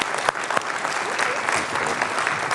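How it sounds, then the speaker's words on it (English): A lecture hall audience at a university inaugural lecture on renewable energy claps warmly, producing a dense, even wash of applause with a few sharper claps standing out, no talking. "if we could give Cora a warm round of applause"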